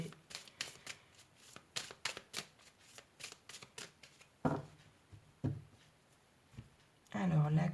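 Tarot cards being shuffled and cut by hand, a long run of quick crisp riffling flicks followed by a few louder slaps and rustles as the deck is split, with a voice speaking near the end.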